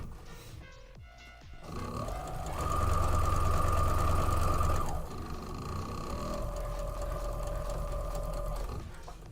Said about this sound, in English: Sewing up these pieces real quick.